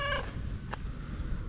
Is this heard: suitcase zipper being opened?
no